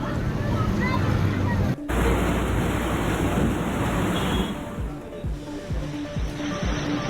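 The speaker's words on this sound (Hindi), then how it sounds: "बारिश के इस मौसम में यहाँ पर लहरें उठती दिखाई दे रही हैं जैसे गाड़ियाँ यहाँ से क्रॉस कर रही हैं।" Vehicles cross a flooded street in Jaipur during the monsoon rains, pushing up waves of water in a loud continuous wash and rush that dips midway and then swells again.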